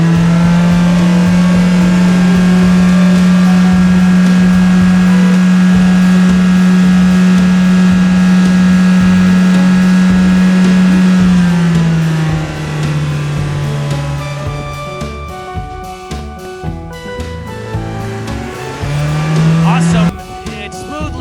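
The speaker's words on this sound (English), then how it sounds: "The yellow sports car is starting off now." A toy yellow sports car races off with a loud, steady high engine-like drone that holds for about twelve seconds, then wavers, dips and fades, ending in a short rise.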